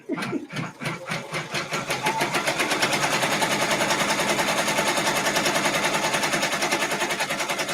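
A multi-needle embroidery machine tacks down wool with a fast, regular mechanical chatter that starts up and quickly settles into a loud, steady rhythmic pulse close by.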